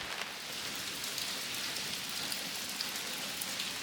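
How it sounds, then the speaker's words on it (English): Rain pours steadily onto the roof of an old cabin in Maine, a dense, continuous hiss of drops close overhead with no other sounds. "Can't compete with rain on the roof."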